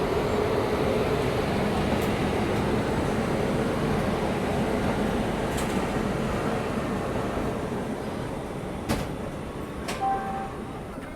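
The Banaras–Sealdah Amrit Bharat Express running along Indian rails, heard from onboard as a steady, loud rumble with faint rhythmic clicks and occasional sharp squeaks over eleven seconds, without talk.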